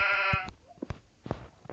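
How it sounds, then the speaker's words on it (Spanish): Sheep in the video game Minecraft gives a short, clear bleat at the start, followed by faint scattered clicks and small game sounds. "¿Hay una oveja acá o qué?"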